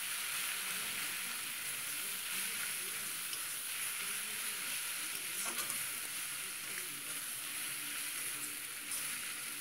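Pea greens with ground rice paste sizzle steadily in a pan while being stirred, a close continuous frying hiss with faint utensil scrapes and no talk.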